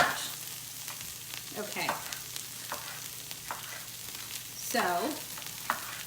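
Fajita vegetables sizzle and fry in a hot pan, a constant hiss punctuated by scraping stirs, with a few brief spoken words from a person over the cooking.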